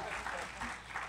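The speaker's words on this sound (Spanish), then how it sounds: "Aplauso muy fuerte para Dulce Demencia" An audience on a piano bar variety show applauds for a sponsor, a brief burst of clapping running under a voice as he speaks over it.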